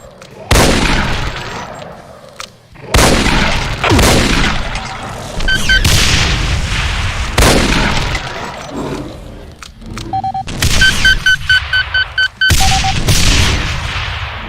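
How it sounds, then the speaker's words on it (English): Revenant variant from a Doom mod firing rockets: repeated loud explosive blasts and launches in quick bursts, with brief electronic beeping tones between them. "Its special attack is shown when it holds its arm cannon upwards and fires a spread of 3 faster moving rockets"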